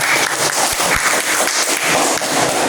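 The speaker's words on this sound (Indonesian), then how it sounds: "Silakan tepuk tangan" Classroom audience clapping on cue during a teacher-training lesson in Pontianak, a dense, loud wash of many hands filling the whole stretch with no talk over it.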